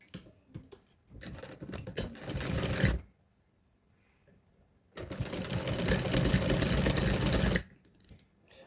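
A sewing machine stitches a crochet doll dress in two close, loud bursts of rapid mechanical clatter, about two and five seconds long, separated by a short quiet pause.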